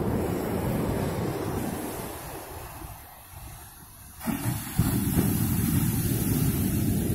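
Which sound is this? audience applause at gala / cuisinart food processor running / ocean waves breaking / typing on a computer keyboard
ocean waves breaking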